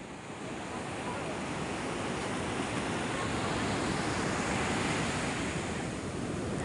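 Strong sea waves surge and wash onto a shore in a steady, loud roar of broadband surf with some wind noise, continuous throughout with no clear break.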